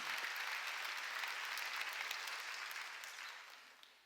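Sustained applause from a church congregation during a Korean sermon, a steady dense wash of clapping that holds evenly before gradually thinning toward the end.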